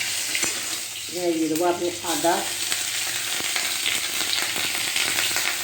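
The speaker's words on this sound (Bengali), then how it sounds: "দেখো দারচিনি আর এই গোটা জিরে দিয়ে দিলাম।" Cinnamon and whole cumin sizzling in hot oil for a Bengali banana-stem curry, a continuous close crackle under brief speech from a woman.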